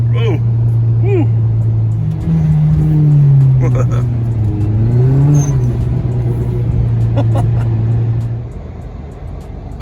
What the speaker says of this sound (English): Third gear sliding here. This is third gear boost.